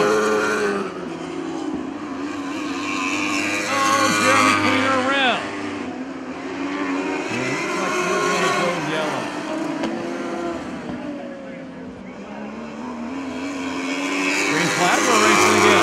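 California Lightning sprint cars race at Perris Auto Speedway, their engines roaring and revving loudly as cars pass near and fade, while an announcer talks over the racing noise.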